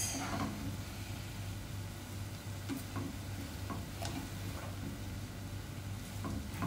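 Soft, close stirring of cabbage and egg stir fry in a pan, with a low sizzle underneath and a few light scattered taps of the utensil against the pan, quiet and unaccompanied by voices.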